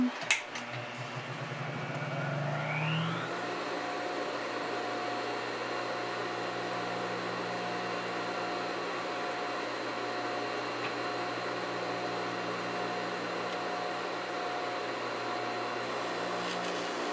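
A sewing machine runs with a steady, continuous motor hum and buzz that holds at an even level for the whole stretch, after a few brief handling clicks at the start.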